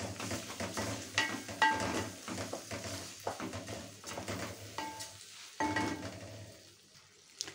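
Washed rice being stirred in a pot with two spoons of ghee and a spoon of oil, with scraping and gentle sizzling in uneven strokes, close and fairly quiet, with no talking.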